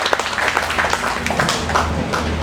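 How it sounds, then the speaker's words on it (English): A round of applause from an audience at a safety stand-down meeting, brief and busy with dense clapping, fairly close and loud, with some voices mixed in. "give them a round of applause"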